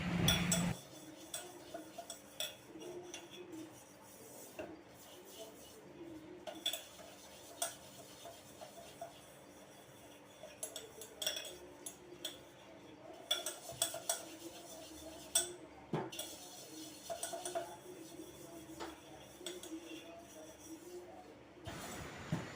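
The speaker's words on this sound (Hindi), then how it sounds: "मुझे सच में बर्तन धुलना बहुत अच्छा लगता है, बहुत पसंद है बर्तन धुलना" Steel dishes and pots being washed in a large kitchen sink, with frequent close clinks and clatters of metal utensils and vessels scattered over a quiet background of running water and handling noise.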